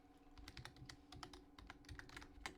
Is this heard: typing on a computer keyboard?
yes